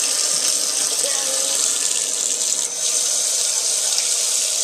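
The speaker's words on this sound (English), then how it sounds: "Now, some water." Water runs from a tap into a sink in a steady, loud hiss for several seconds, close by, used for washing a nitro engine air filter.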